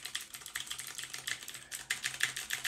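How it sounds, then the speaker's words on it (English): Computer keyboard keys click in a quick, steady typing patter, close and fairly quiet, with no talking. "so you don't get any keyboard clicking"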